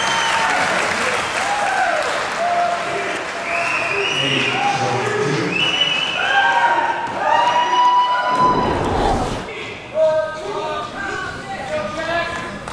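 A crowd applauds at the 2007 US Racquetball Open finals, clapping loudly and continuously while commentators talk over it, with a sharp thump partway through.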